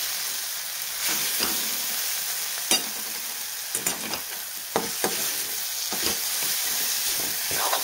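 Spice masala with homemade chilli powder sautéed in hot oil, a steady loud sizzle with intermittent scraping stirs of a spoon in the pan, and no voices.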